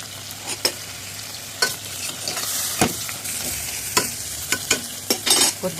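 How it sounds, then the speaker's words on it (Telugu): Brinjals sizzle steadily in hot oil in a pan for stuffed eggplant curry, a loud continuous frying hiss broken by scraping stir strokes and occasional spatula knocks, with no voices. "వంకాయలు వేసేసాను నూనెలో వేసేసి వేసేసాను వంకాయలు వేసి"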